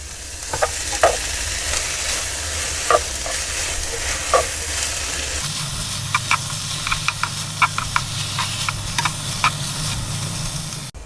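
Onions fry in a pan during a one-pan meal cooked in a van, with an improvised utensil standing in for a spatula. A steady close sizzle runs throughout, broken by repeated scraping stir strokes that come more often and louder in the second half.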